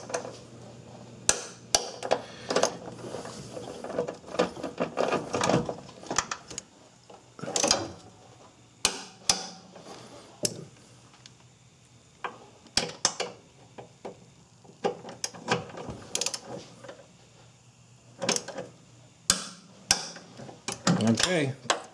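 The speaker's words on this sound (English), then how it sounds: "10 millimeter socket will fit these 3 bolts." Ratchet with a 10 mm socket working on bolts during a Ford Escape timing belt and water pump job, giving sharp metallic clicks and clanks in irregular bursts, with someone talking intermittently in between.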